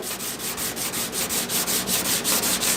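A sanding block is rubbed back and forth over welded thin sheet metal, about a dozen even, rhythmic scraping strokes close up, each a bright rasp, steady and unaccompanied by talk.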